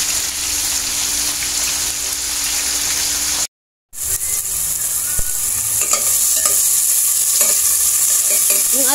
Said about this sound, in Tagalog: Igigisa ko muna ang mga ricado.